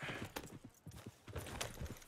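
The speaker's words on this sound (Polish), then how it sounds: "konia se odczepił i pojechał" Horse hoofbeats clip-clop at a trotting rhythm as a rider leaves in Red Dead Redemption 2, fairly quiet and steady with a few gaps, under faint game ambience.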